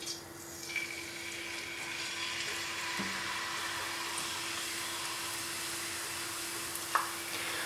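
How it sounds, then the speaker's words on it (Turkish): Steady, soft sizzling of potatoes frying in oil for homemade potato chips, a continuous hiss with a faint hum underneath and a couple of small clinks. "Ve patateslerimi kızartıyorum."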